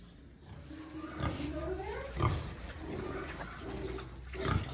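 A young female pig, a gilt, on a family farm grunts in a series of low, close snorts spaced irregularly across the stretch, with some fainter background noise between them.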